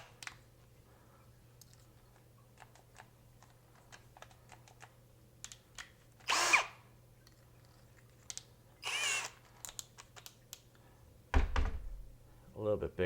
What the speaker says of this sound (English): Now I do have another tapered drill bit.